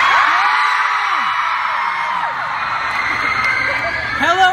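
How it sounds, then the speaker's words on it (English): A large convention audience at a VidCon 2015 panel screams and whoops continuously, loud and sustained, with shrill individual shrieks rising out of the roar. "We've already established they only scream when you say Dan Howell."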